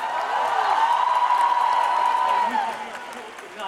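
A crowd at a Tetley Super Green celebration event cheers and applauds, a steady wash of whoops and clapping that holds for a few seconds before thinning out.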